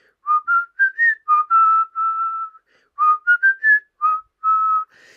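Someone whistles a lilting tune, clear and close, in two phrases of short rising notes and held tones with a brief pause between them.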